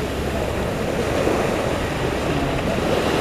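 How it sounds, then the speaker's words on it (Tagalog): Sea waves along the coast of Occidental Mindoro wash in as a steady, broad roar of surf with wind buffeting the microphone, continuous and fairly loud throughout with no voices. "Ayan yung dagat."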